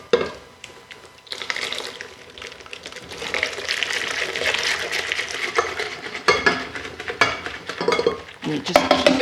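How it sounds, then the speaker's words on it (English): Milk being added to pastry cream in a pot on the stove, with a continuous swishing pour and stirring, plus occasional clinks of utensil against pot, fairly close and without speech. "now I'm going to add the rest of my milk"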